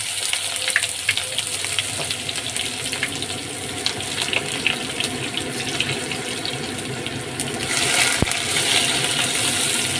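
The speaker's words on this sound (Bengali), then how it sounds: "তেলটা গরম হয়ে যাওয়াতে প্রথমে দেব পেঁয়াজটা" Onions fry in hot oil with a loud, continuous hissing sizzle that holds steady throughout and swells slightly near the end, with no talking.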